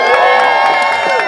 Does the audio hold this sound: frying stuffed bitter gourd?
no